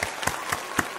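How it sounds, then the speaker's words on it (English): Five sharp hand claps at an even, steady pace, close and fairly loud, from one person with no other sound between them. "I'm actually going to give you a clap."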